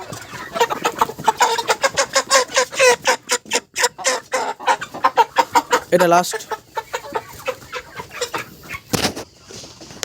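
Kadaknath chickens cluck in a busy, rapid series of calls close by, with a voice briefly speaking between them.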